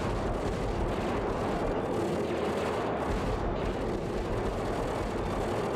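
Minigun firing in KKND2 amid a dense, continuous roar of battle, rapid gunfire and explosions blending into an unbroken loud wall of noise with no voices heard.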